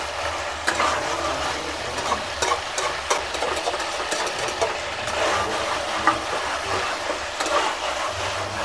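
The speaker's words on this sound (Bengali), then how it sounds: "আদাও ভাজা হবে এর সাথে" Ginger fries in a pan with onion, a soft continuous sizzle marked by scattered clicks and scrapes of stirring, moderately close under a low steady hum.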